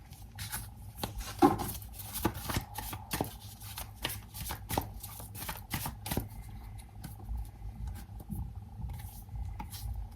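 Tarot cards are shuffled by hand close up, a quick run of soft riffling flicks and slaps in an irregular rhythm, fairly quiet, with no talking.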